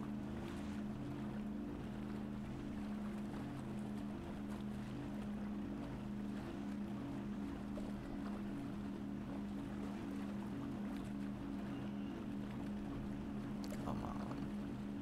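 Hydrofoil boat engine in the Trailmakers video game, a steady low droning hum with a layered rushing wash of water, continuous and even for the whole stretch, with no voices.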